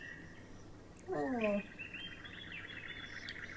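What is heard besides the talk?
crows in trees in video game Down The Well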